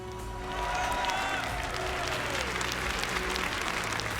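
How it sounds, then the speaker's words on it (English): Audience applause and cheering fill a large esports arena during a Rainbow Six Siege playoff match, a dense sustained roar of clapping swelling after the first half second and holding steady and loud throughout, with faint voices mixed in. "deserves a huge round of applause right now"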